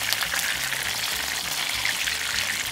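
Pork steak frying in oil in a pan, a steady close sizzle with crackling spatters that continues without a break, no voices.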